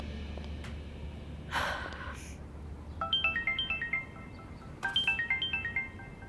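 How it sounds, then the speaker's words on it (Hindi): A phone plays a repeating melodic ringtone in two short bursts, moderately close. A breathy gasp is heard just before the ringing over a low background hum, with no speech. "चलो मैं रमीज को फोन करके बता देती हूँ।"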